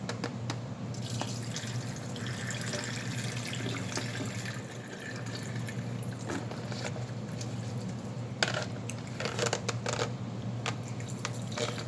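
Water splashes and trickles steadily as it is poured off a pot of ramen noodles, with occasional clinks and a low background hum throughout.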